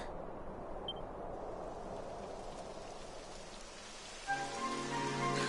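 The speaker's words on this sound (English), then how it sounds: "It would have to go and start raining, wouldn't it?" Steady rain patters in a broad hiss in the video game Dragon Quest XI, with a brief electronic tone near the end as something starts up.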